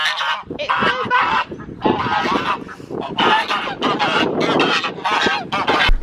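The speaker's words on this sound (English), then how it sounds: "There's the ducks." Backyard farm ducks honk and quack loudly in a rapid, overlapping chorus close by, with no talk over them.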